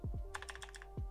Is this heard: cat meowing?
no